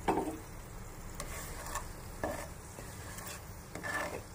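Whole spices (a bay leaf in two pieces, two cloves, two cardamom pods and two cinnamon pieces) fry lightly in oil, a soft sizzle under repeated spoon scrapes and clinks against the pan.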